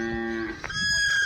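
A cow at a cattle shed gives a single moo, a clear drawn-out call that rises in pitch partway through, heard close by with no talk.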